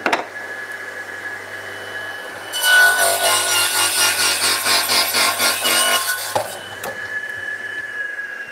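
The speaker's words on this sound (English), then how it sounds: "Just going to trim a bit of wood first." Hand-sawing through a small piece of wood: a loud, rhythmic burst of back-and-forth saw strokes lasting a few seconds, set against quiet room background.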